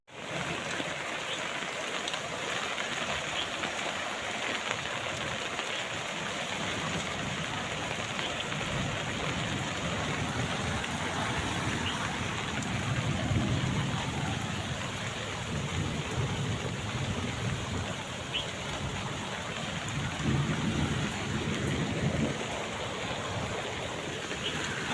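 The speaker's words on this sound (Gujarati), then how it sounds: "કાલ જેટલો જ વરસાદ છે આજે." Heavy rain pours steadily over a Gujarati village, a dense continuous hiss of drops on surfaces that stays loud throughout, with low rumbles underneath.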